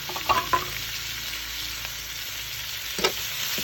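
Tomatoes sizzle steadily in a hot pan while cooking pinakbet on a dalikan stove, with a few close clinks and stirring knocks over the constant frying hiss.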